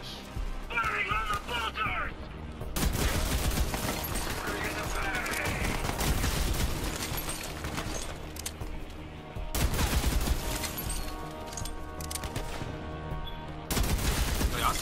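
Rapid video-game gunfire from Borderlands 3 fills the clip, bursts of dense automatic shots with brief pauses and renewed volleys, loud and continuous, with game effects and occasional talk mixed underneath.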